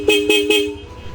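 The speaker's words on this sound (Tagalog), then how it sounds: "kahit napakalakas ng busina" A Blaupunkt D91 horn fitted to a Yamaha Aerox V3 scooter gives three short, loud honks in quick succession, then a fading ring-off.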